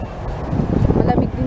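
Wind rushes and rumbles against the microphone in a short gusty burst, with faint voices mixed underneath.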